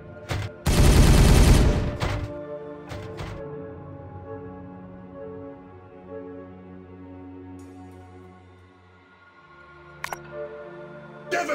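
Gunfire in the Warhammer 40K Regicide video game: a loud sustained burst of shots, two short cracks soon after, a long ringing tail, then a few sharp shots near the end.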